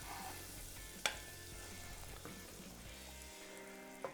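Butter melting in a pan before basmati rice goes in, a soft continuous sizzle and fry with a couple of sharp clinks of a utensil against the pan, no talking.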